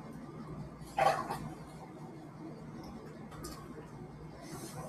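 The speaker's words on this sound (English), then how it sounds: "My dog's over making noises." A dog barks once from somewhere nearby in a home, a short sharp yelp followed by faint whimpering noises under a quiet room background.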